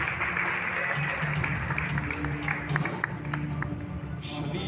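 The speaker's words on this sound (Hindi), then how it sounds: "ताली मार के धन्यवाद।" A church congregation applauding during a Sunday service, a steady crowd clapping that runs throughout under a low hum.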